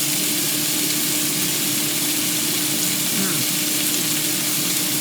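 A marinated venison steak fries in a pan, giving a steady, close, loud sizzle with faint crackle that carries on evenly for the whole stretch, with no voices over it.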